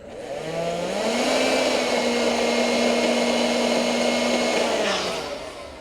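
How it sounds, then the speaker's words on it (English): A small electric pump or blower blows air into a self-inflating roof top tent mattress, ramping up to a loud steady whine, holding for several seconds, then winding down at the end, with no voices. "with the pump or your blower, what I like to do is just add a little bit more in there"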